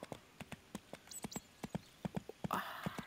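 Horse hooves clip-clopping in the Barbie Horse Adventures video game, a quick regular run of light thuds with a brief whinny-like sound near the end.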